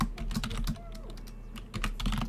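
Quick, light typing on a computer keyboard as a Roblox username is entered: a steady run of close keystroke clicks with a couple of brief pauses.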